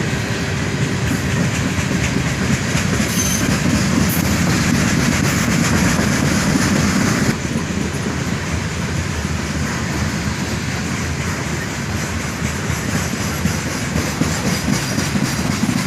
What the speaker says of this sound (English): This was another monster manifest train.